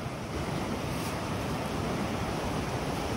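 The Cascade de Murel waterfall gives a loud, steady broadband rush, constant and close throughout with no voices.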